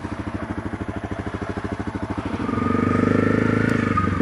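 A Suzuki GR650 motorcycle engine idles with a steady, loud, close thumping pulse, then revs up into a stronger, smoother drone as the bike pulls away for a winter ride.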